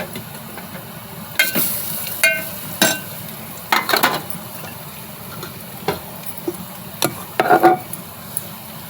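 Onion, garlic, masala and turmeric powder stir-frying in a pan for an alu leaf dish, a low background sizzle broken by repeated scraping and clinking strokes of a spoon.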